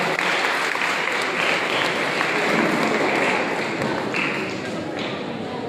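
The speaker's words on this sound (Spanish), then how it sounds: "Un fuerte aplauso para el doctor." Audience applause at a municipal culture-week ceremony in Moniquirá, honouring a doctor: steady, dense clapping from a crowd throughout, fairly loud and continuous, easing slightly toward the end.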